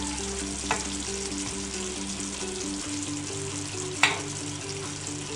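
Chicken pieces steadily sizzle and fry in a pan with their own released juices, a constant crackle with a faint clatter as they are turned over and one sharper scrape near the end.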